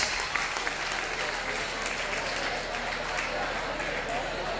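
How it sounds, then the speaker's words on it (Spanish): Loud, continuous applause from a crowd at an anniversary celebration for a performer, dense clapping with a steady low rumble underneath throughout. "Paco de Jesús Lleira, un aplauso"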